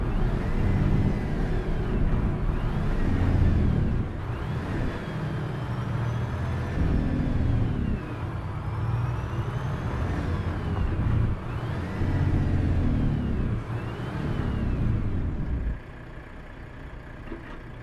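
Modded 725 HP truck engine in Euro Truck Simulator 2, a loud steady diesel drone with rising and falling revs through gear changes, running continuously before easing to a quieter idle near the end.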